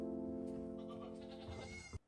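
A goat bleats in one long, wavering, nasal cry that holds strongly for nearly two seconds before cutting off abruptly, loud and close, with no talk over it.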